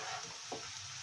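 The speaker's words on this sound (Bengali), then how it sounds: "আবার একটু নাড়িয়ে নিচ্ছি" Bottle gourd shoots frying in a pan with a steady, close sizzle, broken by a short scrape of the spoon stirring them about near the middle.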